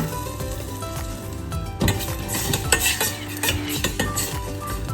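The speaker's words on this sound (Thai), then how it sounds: "ค่อยๆผัดใช้ไฟเบานะคะ" Thick coconut cream stir-fried over low heat in a pan for chicken satay, a continuous soft sizzle under repeated scraping and clinking of a spatula or spoon against the pan.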